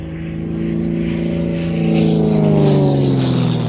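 A Game Composites aerobatic propeller plane performs at the Sywell Airshow, its loud droning engine shifting pitch as it climbs and turns close overhead, a continuous roar that swells toward the end.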